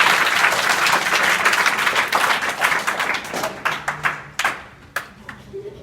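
Audience applause at a school event in Azamgarh: a dense burst of many hands clapping, loud at first, then thinning into scattered individual claps as it fades out.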